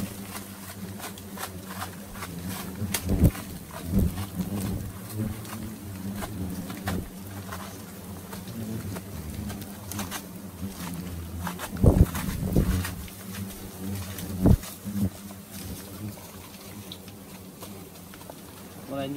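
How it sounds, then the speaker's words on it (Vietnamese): Hornets swarm around a huge nest being taken from a house, a steady dense buzzing close by, with people talking over it and a few sharp louder bumps. "Ui, cái tổ ong dã man thật đấy."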